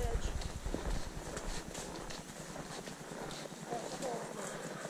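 Horse hooves clip-clop steadily on a trail ride beside a creek, an irregular run of close, moderate knocks with faint background voices.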